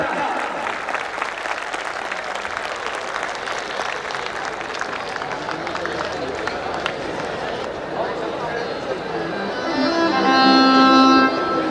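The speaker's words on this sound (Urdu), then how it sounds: "تالیاں کم ہیں بھیا۔" Audience applause at a college annual dinner event, a dense, continuous patter of clapping from a crowd, followed near the end by music starting with a sustained melodic tone.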